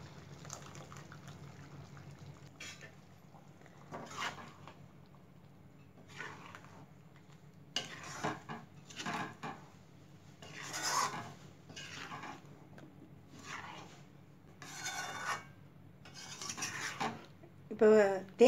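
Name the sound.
pouring ground coconut paste into kuzhambu and stirring pot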